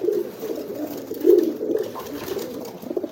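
Pigeons at a loft coo in low, soft, rolling murmurs, several overlapping calls at close range against a light background hiss, with no talk.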